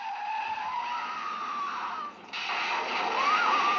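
Car tires skidding in a 1972 horror film, a steady high squeal with engine noise that briefly drops out, then returns louder with a rising whine.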